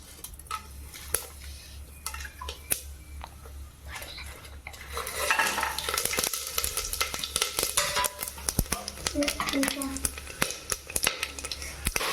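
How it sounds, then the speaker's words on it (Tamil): Cloves and cinnamon dropped into hot oil for a mushroom biryani, with a few light metallic clinks at first, then a loud, dense sizzle that rises and continues close by, joined by stirring scrapes over a low steady hum. "எண்ணெய் சூடாயிடுச்சு கிராம்பு கிராம்பு பட்டையெல்லாம் போட்டுக்கலாம்"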